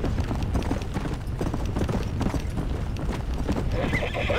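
A horse in the Red Dead Redemption video game trots with a continuous clip-clop of hooves and whinnies near the end, with the game's ambient sound behind it.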